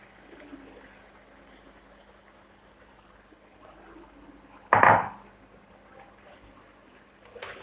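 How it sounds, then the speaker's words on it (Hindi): Fried okra is tipped into spiced masala in a pan, making one brief, loud splashing sizzle in otherwise quiet kitchen surroundings, with a faint clink shortly after. No one talks. "अभी हम इसमें ऐड करेंगे भिंडियाँ जो हमने फ्राई करके रखी थी।"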